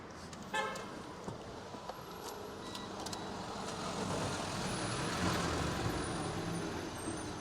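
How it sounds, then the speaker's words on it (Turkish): A petrol Toyota Corolla engine starts and settles into a steady, quiet idle, a low broadband hum that holds evenly after a brief initial burst, with no talking. "Şimdi bir arabayı çalıştırayım abi."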